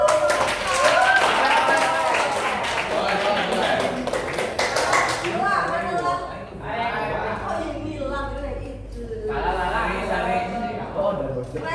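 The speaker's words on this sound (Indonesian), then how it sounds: "Tepuk tangan untuk" Classroom applause from a group of students during a teacher's coaching session, a dense burst of clapping that fades as voices and talk take over.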